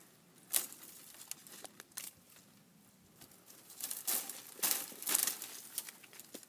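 Pruning shears snip through grapevine wood in a vineyard trained on the Scott Henry system, giving a scattered run of crisp cuts and woody crackles, close by with no talk.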